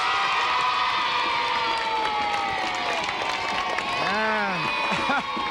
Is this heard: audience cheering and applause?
yes